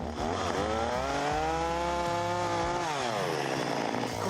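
Chainsaw cutting wood on a construction site, its engine held loud and steady, then dipping in pitch as it bites through the cut before recovering, with no talk over it.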